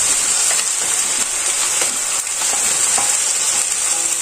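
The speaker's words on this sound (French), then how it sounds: "Donc on fait dorer et on se retrouve" Ingredients for a prune tajine brown in a hot pan, giving a dense, steady frying hiss and sizzle with occasional faint stirring clicks, close and continuous.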